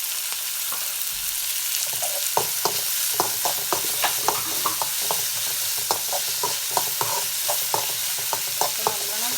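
Okra and onion sizzle in a hot pan while a utensil stirs them in quick, regular scrapes and taps. The frying hiss holds steady underneath, close and fairly loud, with no talking.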